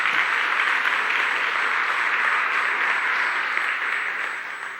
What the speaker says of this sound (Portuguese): Dá uma forte salva de palmas para Jesus.